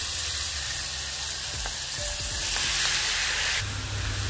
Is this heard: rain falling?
no